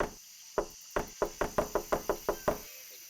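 Knocking on a door in the video game NORCO, ten sharp, close raps in a quick, fairly even rhythm after a single opening knock, alone with no talk.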